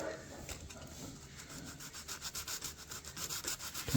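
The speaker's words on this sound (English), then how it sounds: "so I'm just smoothing everything over, blending all the surfaces in nice and flat" Hand sanding that smooths cured epoxy on wooden stairs: a close, rhythmic rasping rub with fast back-and-forth strokes that grows slightly louder toward the end.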